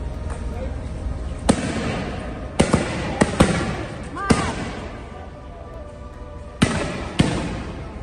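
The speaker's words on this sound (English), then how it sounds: "protesters, who responded by setting off firecrackers" Firecrackers set off by protesters during a street demonstration in Tbilisi, Georgia, as police deploy tear gas: several sharp, loud bangs at irregular intervals, some in quick pairs, over a busy crowd murmur and voices.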